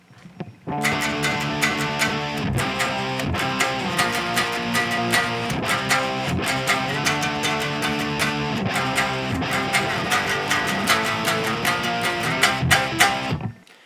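Distorted electric guitar plays the chorus of a song, a fast, driving chord pattern with rhythmic chugging strums, loud and continuous, with no voices.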